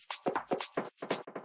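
A live shaker with no sidechain compression plays a quick, steady run of bright rattling shakes, dry and up front, alone with no talk.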